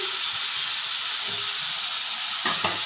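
Potatoes frying in oil with spices and green chilli for a banana flower dish, giving a continuous bright sizzle with faint stirring scrapes and a couple of louder clatters near the end.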